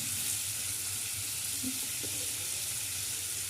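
Paneer pieces frying in a kadai, a continuous broad sizzling hiss at moderate level with faint low clinks, no speech over it.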